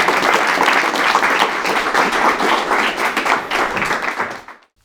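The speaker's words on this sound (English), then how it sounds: "And with that, I invite you to give a warm round of applause for Dr. Robert." Warm audience applause at an evening lecture event, dense steady clapping from a full room that holds for about four seconds before quickly dying away.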